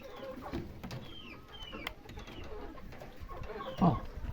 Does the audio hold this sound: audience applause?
no